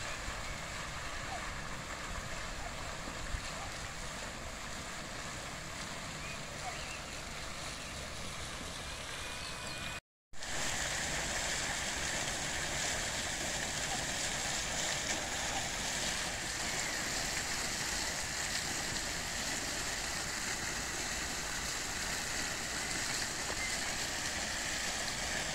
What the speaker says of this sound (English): This is a peaceful area, just to sit down and watch the fountains.